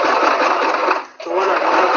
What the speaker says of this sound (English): Then we're going to sew about 1 inch